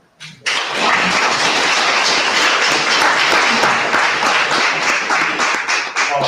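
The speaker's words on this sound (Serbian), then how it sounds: "Možemo da uputimo jedan aplauz." An audience breaks into applause after a talk, starting suddenly and holding a loud, dense clapping for about six seconds with a few sharper individual claps near the end.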